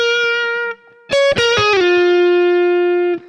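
Distorted electric guitar playing a short solo phrase with a strong pull-off and a minor-third slide down, sustained notes bending in pitch and ringing out loud and alone.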